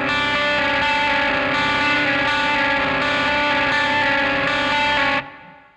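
A sustained dissonant chord on heavily distorted electric guitar from a song rings loud and alone, strummed repeatedly in an even rhythm for about five seconds before cutting off abruptly.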